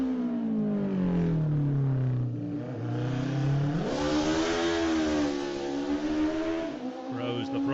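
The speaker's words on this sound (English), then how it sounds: "Throws the throttle down on the Davies Motorsport Honda" A Davies Motorsport Honda racing motorcycle at the Classic TT accelerates hard. Its engine note climbs through gears and drops at the shifts, loud and sustained, with commentary running over it.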